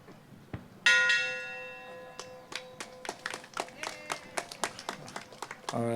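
A ceremonial bell rings again and again at a Let Freedom Ring national bell ringing ceremony, each strike leaving a clear, lingering tone, with scattered applause and voices around it.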